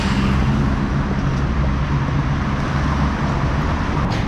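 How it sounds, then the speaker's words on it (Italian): Heavy Bangkok road traffic fills the air with a dense, continuous engine rumble and low roadway noise. Occasional faint clicks and knocks rise above it, and there is no speech. "C'è un traffico mostruoso e forse..."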